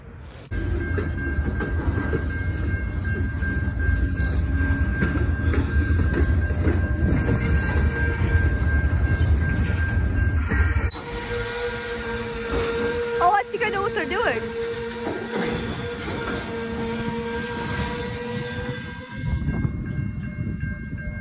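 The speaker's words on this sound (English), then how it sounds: "then I realized they're backing the train up" A freight train backing up rumbles heavily nearby with wheels squealing and tonal screeches, then the low rumble drops away and a steady metallic whine continues.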